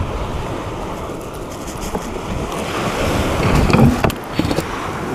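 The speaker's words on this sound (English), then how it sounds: "the bloody waves are crashing there" Sea waves crash and wash onto Pakefield beach in Suffolk, a continuous roar of surf with strong wind buffeting the microphone and a louder surge near the end.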